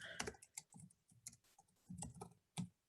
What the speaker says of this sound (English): I'm typing at a distance on my second screen